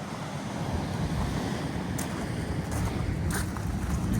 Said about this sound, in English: The waves are getting a little bigger.